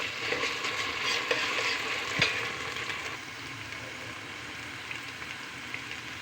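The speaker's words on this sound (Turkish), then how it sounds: "Bir çorba kaşığı domates salçam vardı. Yarım çorba kaşığı da biber salçam. Bunu da iyice yedireceğim." Tomato paste and red pepper paste are stirred into onions frying in a pan for leek soup, giving a steady close sizzle with spoon scrapes and a sharper clack near the middle, with no voices.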